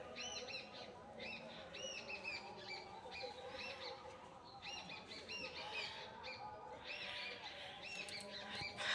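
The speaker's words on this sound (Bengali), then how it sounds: "পাখিদের ডাক শুনেছ" Birds call around a village in the early morning, repeated short chirps and tweets at mid distance over a faint background murmur, with no talking.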